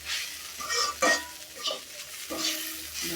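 Vegetable bhaji frying in a pan, a close, continuous sizzle broken by repeated scraping and clinking strokes as it is stirred.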